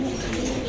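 Pigeons in a loft give a low, steady coo, close and clear for a brief moment.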